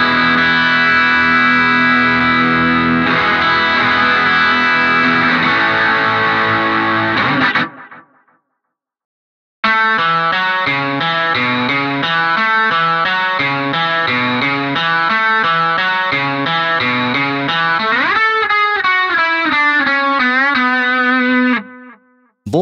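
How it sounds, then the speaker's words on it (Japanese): Electric guitar run through distortion with an octaver blending in a faint note an octave up, BIAS FX 2 amp-sim tone: a sustained distorted chordal passage, a brief silence, then a busy riff with a rising bend at the end. "さらにオクターバーで1オクターブ上の音をうっすら混ぜています。"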